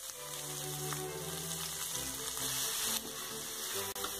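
Chopped beans and carrot fry with urad dal and curry leaves in a pan for thoran, giving a soft, steady sizzle over a low background hum, faint and continuous with a brief dip near the end.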